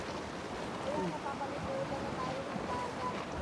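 Continuous wash of ocean surf with wind noise, a steady rushing roar at moderate distance, at Admiralty Park, Bermuda.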